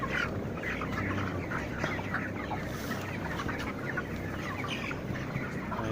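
Crowded broiler chickens on day 28 inside a closed poultry house cluck and chatter continuously, a dense flock murmur with no pauses and no talking.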